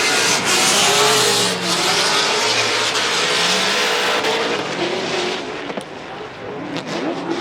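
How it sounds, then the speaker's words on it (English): A Nissan S14 drift car's engine screams at high revs during a professional drift competition, rising and falling with tire squeal, loud and continuous, fading slightly toward the end. "Let's listen to Jonathan Nairn and his S14"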